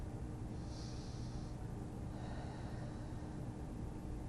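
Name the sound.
deep breathing during a flexibility workout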